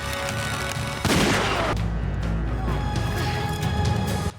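Explosions and gunfire in a battle scene at a castle, a dense sustained roar of blasts and shots with a sharp loud burst near the start, then continuous rumbling fire.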